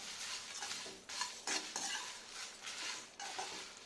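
A spoon scrapes and stirs dry-roasted whole spices for homemade garam masala in a hot pan, making quick, close, rattling strokes with light sizzling and no voices.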